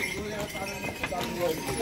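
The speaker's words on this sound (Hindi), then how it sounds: "घोड़े बहुत स्लिप हो रहे हैं यहाँ पर।" Horses' hooves clop on the steep Kedarnath trek path, a busy mix of irregular hoof strikes amid crowd noise and talking voices.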